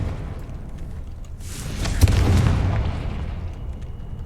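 A Confringo blasting spell goes off in a magic video game: a single deep, booming explosion with a rushing burst that swells and rumbles on for a couple of seconds before fading.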